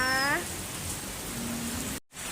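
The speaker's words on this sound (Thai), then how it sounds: "บรรยากาศฝนตก ฝ้าร้อง" Rain falling during a rainy day, a steady close hiss of drops on surfaces throughout, with a brief high whine at the start and a short dropout near the end.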